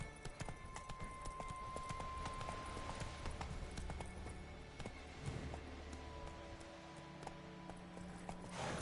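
Roach, the horse from The Witcher 3 video game, gallops in a steady, rapid clip-clop of hooves that runs the whole way through, close and fairly loud, with game ambience and music beneath.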